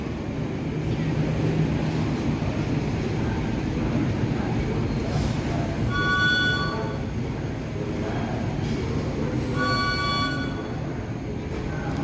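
A Pangandaran passenger train with green stickers rolls through Cibatu station at night, a steady loud rumble of wheels with brief tonal squeals or whistle-like tones rising twice over the continuous roar.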